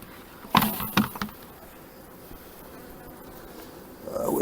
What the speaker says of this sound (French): Voilà, des abeilles de couvain ouvert.